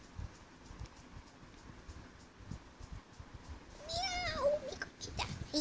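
A black cat meows near the end, a couple of rising, wavering cries that are fairly close and clear, after several seconds of quiet rustling room noise.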